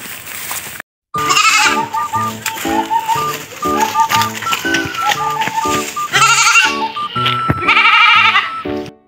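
A goat bleats over and over in loud, close, nasal calls that come in quick repeated bursts almost without pause.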